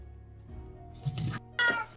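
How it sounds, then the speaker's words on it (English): A house cat meows twice at home during an evening tabletop game session: a short call, then a second, brighter cry. Both are fairly close and clear over a quiet room hum. "No, that's my cat."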